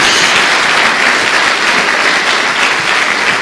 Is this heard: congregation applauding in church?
yes